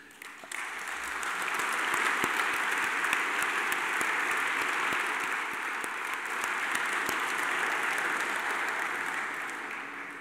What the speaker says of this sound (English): That's very nice, spontaneous applause.